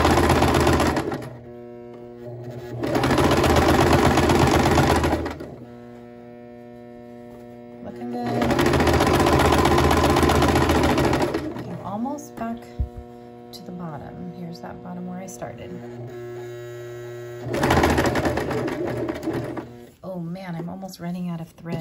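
A sewing machine stitches a seam on an envelope dress in three loud sustained runs, humming steadily, with quieter pauses between where small handling clicks are heard.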